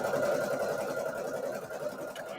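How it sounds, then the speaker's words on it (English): An embroidery machine stitches steadily, with a busy mechanical whir and rapid needle chatter heard up close and without voices. "So I'm just going to start embroidering this."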